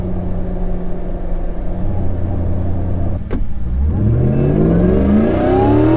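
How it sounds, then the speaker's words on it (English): Hellcat-swapped Jeep Gladiator Recon with 750+ hp, traction control off: a deep idling rumble gives way to the engine revving hard, its pitch climbing steadily as the car launches, loud and close. "we're gonna try traction off"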